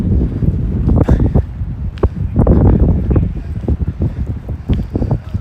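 Stormy wind gusting outdoors at night on a city street, heavy buffeting rumble striking the microphone in irregular bursts, loud and close.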